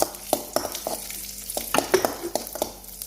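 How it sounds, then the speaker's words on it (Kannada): Raisins frying in a pan for vermicelli payasam, a close crackling sizzle punctuated by quick rhythmic scrapes and taps of a spoon stirring, with no voices. "ದ್ರಾಕ್ಷಿ ಹಾಕೊಂಡಿ ನೋಡ್ರಿ ಅದನ್ನು ಒಂದು ಸ್ವಲ್ಪ ಫ್ರೈ ಮಾಡ್ಕೊಳ್ಳೋಣ"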